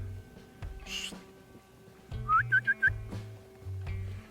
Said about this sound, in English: Man, when it's cold like this, it's hard to whistle.